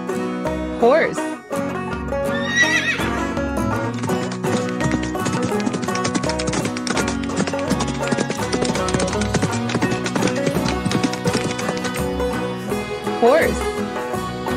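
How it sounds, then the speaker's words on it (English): A horse on a farm gives a shrill whinny at the start and end, with a steady clip-clop of hooves and dense, busy farmyard sound filling the stretch in between. "Horse."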